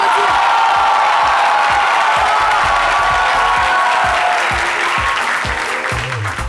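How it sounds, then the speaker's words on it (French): Loud, sustained applause from a studio audience greeting a celebrated Ivorian musician on a midday TV show, dense clapping with scattered cheers and whoops across the whole stretch, tapering slightly at the end. "que je vous demande d'applaudir"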